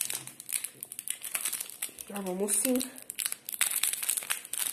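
A Feastables chocolate bar wrapper crinkles in short bursts up close, with the crackling heard under a person's speech and a brief voiced sound partway through.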